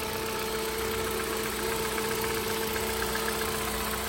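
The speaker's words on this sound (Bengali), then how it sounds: "ইঞ্জিনের সাউন্ডটা খুবই ভালো" A 2016 Hyundai car's small 1500cc engine idles with a smooth, steady hum. The sound is fairly faint and continuous, with no talking over it.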